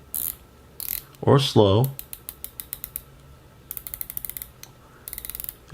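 An orange 39mm Nivada Grenchen Depthmaster dive watch has its bezel turned, producing close, crisp ratcheting clicks in quick runs and slower spaced series, with a brief spoken phrase early on.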